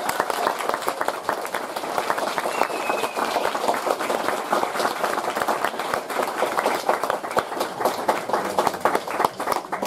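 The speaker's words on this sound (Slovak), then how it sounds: "Poprosím ešte o jeden potlesk pre našich účinkujúcich." Crowd at an outdoor cultural celebration in Slovakia gives the performers another round of applause, a brisk, fairly loud patter of many hands clapping continuously, with faint murmurs underneath.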